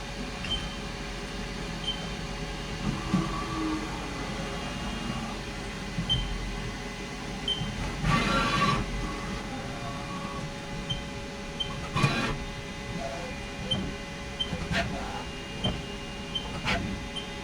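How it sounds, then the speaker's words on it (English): A Haas CNC machine runs a probing cycle on a stainless steel block, a steady mechanical hum and whir punctuated by occasional brief clicks and short bursts of motor movement, with no talking. "now we're going to run the probing for centering up that block"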